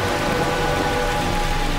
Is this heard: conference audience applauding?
no